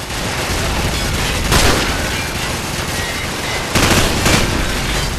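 Heavy gunfire in Call of Duty 4: Modern Warfare, with sustained machine-gun fusillades and louder bursts booming through a dense, loud battle din, heard without talk.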